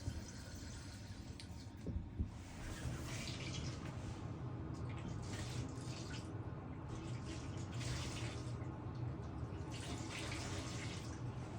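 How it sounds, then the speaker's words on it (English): Water running and splashing as a toilet is filled with bathtub water during house plumbing repairs, a continuous, fairly quiet pouring with small irregular surges and no talking. "He's filling up the toilet with the tub water."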